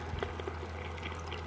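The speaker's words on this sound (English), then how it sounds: "add water and there it is, your very own DIY water fountain" A small homemade thermocol water fountain runs continuously, giving a faint, steady trickle with a few soft drips over a low constant hum.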